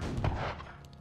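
A pirate ship's cannon fires in the Sea King video game, a single booming blast with a rumbling low tail over about a second, loud and close, without speech.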